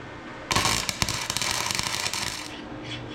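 Short crackling arc-welding bursts as tack welds go onto a homemade fuel pump drilling jig, a loud sputtering hiss lasting about two seconds with sharp pops, then quieter hum.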